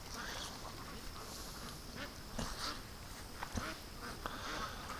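A flock of farm-raised ducks quacks faintly outdoors in the early morning, with soft, scattered calls over steady background noise.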